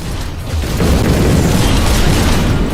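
Weapon blasts and explosions in the retro VR shooter Overload, a loud, dense rumbling roar of booms that swells after a moment and holds steady.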